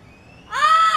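A parrot meeting a blue-fronted parrot gives one loud, harsh squawk after a brief faint lead-in.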